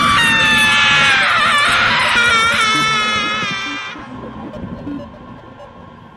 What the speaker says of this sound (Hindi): एक झटके में श्वेता की चीख उन पहाड़ियों में गूंज जाती है